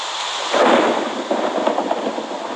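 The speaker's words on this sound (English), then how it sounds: "all the rain and the thunder, rain, thunder, and lightning" Video game thunderstorm: a deep, loud thunder rumble swells over a constant hiss of heavy rain, close and enveloping, with no voices.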